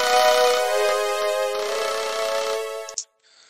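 Synthesized playback of a baroque descending sequence from notation software, top notes stepping down by three and back up, sustained harmonic tones sounding steadily for about three seconds before cutting off.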